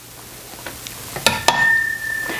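Grated Parmesan being stirred into melted cream cheese sauce in a pan, with soft scraping stirs and a few sharp utensil clinks against the pan over a quiet background, no talk.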